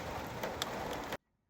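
Heavy pouring rain hisses steadily and densely around a jalousie window, a loud continuous wash that cuts off abruptly near the end.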